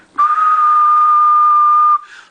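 A single sustained whistle into a CB radio microphone during an SSB/AM power test on an RCI 2950 DX, one steady pure tone lasting nearly two seconds, loud and close, ending with a brief tail.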